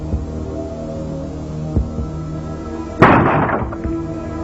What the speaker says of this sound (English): The bang at the door was immense.